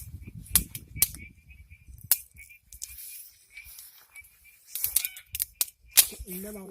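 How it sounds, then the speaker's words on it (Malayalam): Sharp, irregular cracks of twigs and branches snapped by elephants in a Nilgiri valley, some close and loud, others fainter, scattered across a quiet background. "ചുള്ളി പൊട്ടിക്കുന്ന ശബ്ദം ഏകദേശം ആനകൾ ഇതൊക്കെ കമ്പും കാര്യങ്ങളൊക്കെ വലിച്ചു പൊട്ടിക്കുന്നുണ്ട് അവിടെ"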